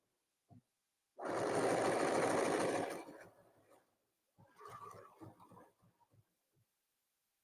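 A sewing machine stitching fabric runs in one loud, steady whir for under two seconds, then stops. Quieter clicks and short mechanical bursts follow as the work is adjusted, with no talking.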